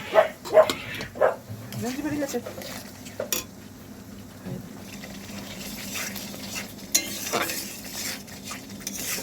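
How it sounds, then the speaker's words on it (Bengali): Chicken masala being stir-fried with a little water in a pot, with close scraping and clanking of a spatula against metal over a soft sizzle, and a voice speaking at times. "এইবারে অল্প একটু জল দিয়ে ভালো করে কষাতে হবে"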